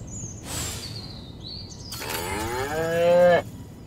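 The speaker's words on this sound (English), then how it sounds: "Again with the moo? I think these lactating bovoids are trying to fool us." A cow moos in the Destroy All Humans video game, giving one long, loud, drawn-out bellow near the end after faint bird chirps, with no talk during it.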